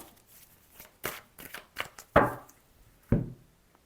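Tarot cards being shuffled and cut for a Gemini reading, a run of separate riffling and slapping bursts, several sharper snaps near the end, close and clear with no talking.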